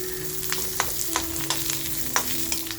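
Onion frying in a pan gives a continuous close sizzle, with quick spoon scrapes and clicks recurring every half second or so throughout.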